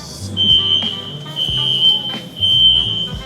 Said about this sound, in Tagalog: May alarm guys.